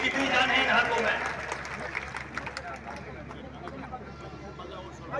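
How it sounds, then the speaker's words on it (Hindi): A crowd claps at a Holi and Eid Milan gathering in Tajpur, Bijnor, with a loud, dense burst of applause at the start that slowly thins into a lighter, scattered patter. "एक बार और तालियां बजाकर दिखाइए कि कितनी जान है इन हाथों में"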